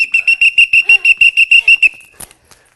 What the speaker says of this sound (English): 2 whistles